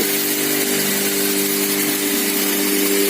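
Electric grain mill grinding wheat, one of two units running from the same outlet, gives a steady, loud motor drone with a constant whine that holds unchanged throughout, with no voices.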